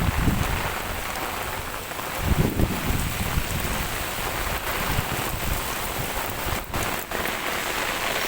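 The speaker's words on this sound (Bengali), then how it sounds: "এত পরিমাণ বৃষ্টি" Heavy evening rain pours down steadily, a dense close hiss of drops striking surfaces with a few louder gusty swells, no voices present.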